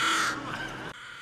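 Crows caw loudly and harshly in a quick burst close by, the raucous calls filling the first part before fading into outdoor background noise.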